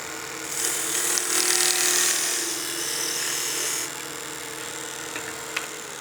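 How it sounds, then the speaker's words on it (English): Continuous whirring hum of a wood lathe with the whine of skew chisel parting cuts into spinning wood, swelling louder in the first half then easing to a steadier drone with a small tick near the end. "let's continue parting these down"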